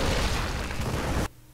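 An explosion in StarCraft II during a 2v2 match on the Crystal Pools map: a loud, rumbling blast that holds steady for over a second, then cuts off abruptly to quiet.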